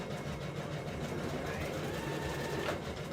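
Sewing machine stitching a reinforcement seam into a jacket's sleeve cap, a continuous fast mechanical whirr and hum held steady throughout the short stretch.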